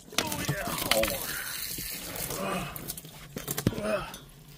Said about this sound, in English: Straight water. Spraying everywhere.